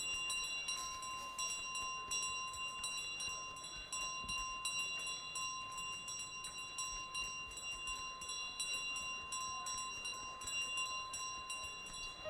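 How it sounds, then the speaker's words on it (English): A bell in Untitled Goose Game rings with a sustained, bright metallic tone that hangs steadily throughout, a constant ringing at moderate level with no speech on top. "when I drop the bell into the ditch at the end"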